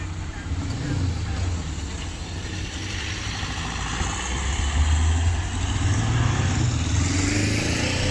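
A police car pulls away from the Feltham station yard on blue lights, its engine rumble rising and surging midway before easing, with general traffic noise around it.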